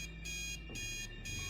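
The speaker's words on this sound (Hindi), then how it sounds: "अलार्म की आवाज थी।" An alarm clock rings alone in a horror story setting, a steady electronic beeping tone that pulses in even bursts, close and moderately loud with no talk over it.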